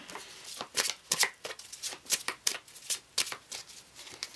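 A deck of tarot cards being shuffled by hand, a quick run of crisp riffling flicks and slaps repeating about a dozen times in close, fairly quiet succession with no talking.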